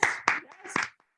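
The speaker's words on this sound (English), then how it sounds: "why am I the only person applauding?" A lone person clapping a few sharp, close claps in quick succession, mixed with a voice.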